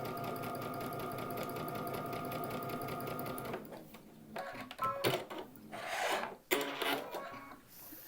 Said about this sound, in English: Now this is called chain piecing, where I'm continuing to feed units through without cutting the thread.